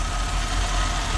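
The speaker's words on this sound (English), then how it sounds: "ever since I put these valve covers on this engine, it's always had that growl" A steady low engine growl at idle, blamed on aftermarket valve covers fitted to the engine, holds continuous and fairly close with a rumbling vibration and no talk over it.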